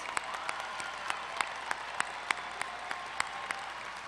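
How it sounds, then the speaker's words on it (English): Steady applause from an audience at a university commencement, dense clapping filling the whole stretch with a few sharper claps standing out, no voices. "allow us to give you a round of applause"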